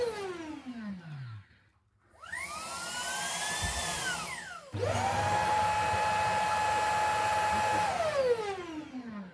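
A Shark PowerDetect robot vacuum empties into its base station with a loud, close whine. The motor pitch sweeps up, drops away briefly, then roars again and holds steady before winding down.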